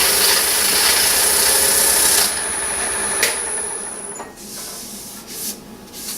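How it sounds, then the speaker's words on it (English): Steady broadband rubbing of sandpaper against the bottom of a turned wooden bowl, loud and continuous, easing slightly after a couple of seconds and growing patchier toward the end, with no talking. "Now we can sand the bottom of the bowl."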